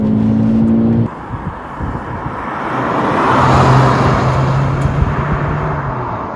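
A VW Polo GTI hatchback being thrown into corners on a road, its engine note rising and falling with a steady tyre and wind rush, heard close from onboard with no talking.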